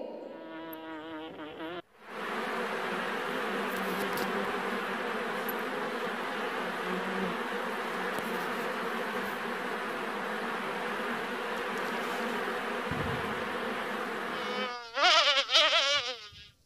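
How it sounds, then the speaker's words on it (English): Steady, dense buzzing of many bees, continuous for several seconds, close and fairly loud, with brief other sounds at the start and end. "Yes, these are bees."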